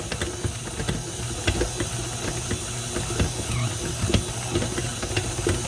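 A stand mixer fitted with a dough hook kneads bread dough, giving a steady whirring mechanical drone with rhythmic clicks and knocks repeating throughout, fairly close and with no voices.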